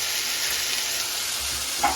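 Coriander-cumin powder, turmeric and chili powder sizzle in hot tempering oil with a steady, close, bright hiss. There is no talk.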